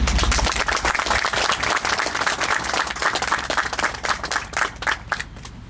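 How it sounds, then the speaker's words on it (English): An audience at a Special Forces battalion headquarters dedication ceremony bursts into loud, sustained applause, the dense clapping filling the space and slowly thinning toward the end. "So please join me in a round of applause"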